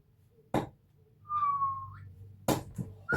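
A single sustained whistle at a darts match, steady and mid-loud for under a second, set between sharp thuds and brief crowd noise.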